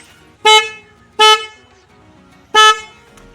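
A Tata Nano car horn honks three times, loud and close, in short bursts with a longer gap before the last.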